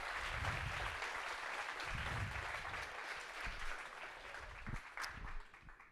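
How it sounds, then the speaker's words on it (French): Audience applause after a team's medical simulation performance in the final of a competition, a steady, fairly quiet wash of clapping with low rumble throughout, fading slightly near the end. "J'aimerais qu'on les applaudisse encore."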